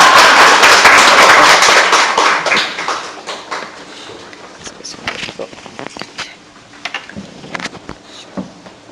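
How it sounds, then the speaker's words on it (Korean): A church congregation claps in welcome, a dense loud burst at first that thins out over several seconds into scattered individual claps and taps. "할렐루야 하고 박수로 환영하시기 바랍니다"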